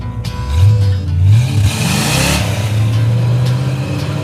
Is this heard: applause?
no